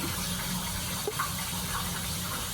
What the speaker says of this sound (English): It's actually filling pretty quickly. That's why I wanted to use the water hose